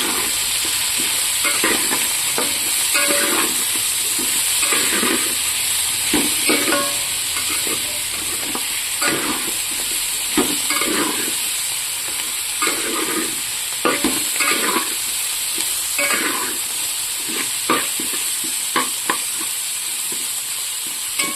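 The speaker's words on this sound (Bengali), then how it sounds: "দিয়ে আমি এবার সবগুলোকে ভালো করে নাড়াচাড়া করব।" Vegetables and fresh coriander leaves sizzle in a frying pan as a spoon stirs them repeatedly, giving a rhythmic run of scraping, clacking strokes over continuous close frying hiss, with no talk.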